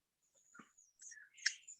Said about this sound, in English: birds are coming and going to the feeders